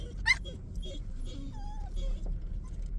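Dogs whimper, whine and yip inside a Chevrolet Avalanche truck, with a sharp yelp near the start followed by thin, wavering whines, close and fairly quiet over steady road rumble.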